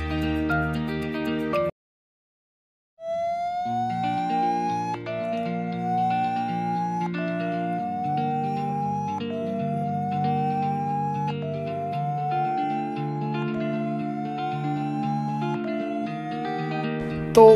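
Redmi phone's clear speaker feature plays a repeating tonal sequence through the speaker: brief buzzy tones, a short gap, then a steady run of rising sliding beeps with harmonic drones beneath, continuous and unaccompanied by talk.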